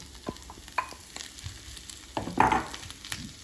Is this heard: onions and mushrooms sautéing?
yes